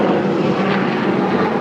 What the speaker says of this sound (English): It's like a helicopter over there. A loud one.